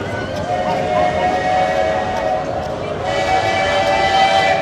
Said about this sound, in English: You can hear the train whistle.